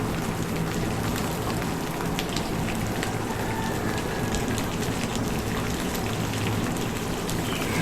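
Potatoes and pointed gourd fry in a hot pan for aloo potol posto, giving a steady, dense sizzle that holds evenly from start to finish, close and fairly loud, with no talking.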